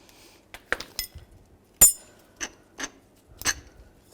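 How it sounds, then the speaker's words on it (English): Metal wrench and 18mm socket clink against strut bolts on a 2003–2007 Cadillac CTS front driver's side strut, a handful of sharp, separate ratcheting clicks and taps with quiet gaps between them. "Take these bolts out."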